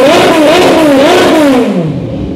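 A Kawasaki Z1000R motorcycle with dual exhaust revs loudly up close, its engine note rising and falling in a couple of swells before easing back toward idle.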